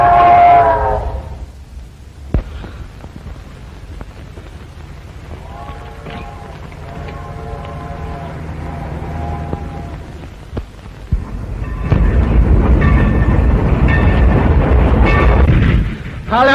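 A steam-era train at a railroad station rumbles and hisses, with a louder surge of engine noise near the end, while people talk briefly over it.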